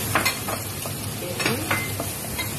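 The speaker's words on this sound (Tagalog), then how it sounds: "Mainit na po ang mantika. Ilalagay ko na po ang itlog at ililis ko po." An egg hits hot oil in a pan for fried rice, giving a close, busy sizzle with a few light utensil clinks over a brief moment.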